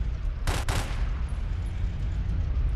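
Automatic gunfire from a Lamborghini in a Roblox police game, a sharp burst of two rapid, loud volleys heard over a steady low rumble of game ambience.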